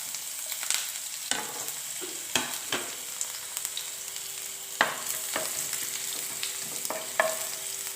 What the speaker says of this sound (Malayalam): ഇനി അതിലേക്ക് ഒരു 4 ചുവന്നുള്ളി അരിഞ്ഞത് ചേർത്ത് കൊടുക്കാം.